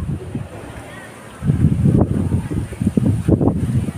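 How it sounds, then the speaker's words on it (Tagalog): Strong wind buffets the microphone at the seaside, with a steady roar that swells into heavy gusts partway through, loud and close, while a voice talks faintly underneath. "Diya kasagsag hangin."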